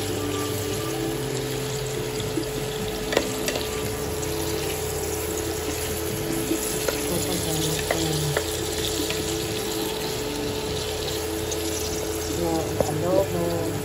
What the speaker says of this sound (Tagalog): ito na po yung aking adobo. So, maluluto na po siya.